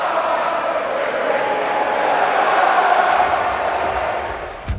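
A large wrestling crowd at a WWE event in Brooklyn's Barclays Center roars and cheers in a steady, dense wash of noise that swells slightly before easing off.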